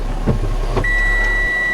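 A short electronic lock beep rings out from a 2008 Mazda MX-5 2.0 roadster coupe, a single steady tone held for about a second over a low idling engine rumble.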